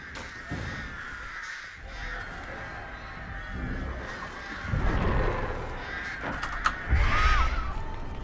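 Crows caw repeatedly in the Dead by Daylight game, harsh calls scattered over a busy in-game soundscape with rumbling effects and thumps, loudest toward the end.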